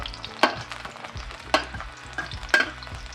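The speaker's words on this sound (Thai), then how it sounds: "ใส่กระเทียมลงไปแล้วนะครับ" Whole unpeeled garlic cloves, lightly crushed, sizzle and fry in hot oil over lowered heat while being stirred, with a steady crackle broken by three sharp scraping stir strokes at roughly one-second intervals, close and clear, with no talk.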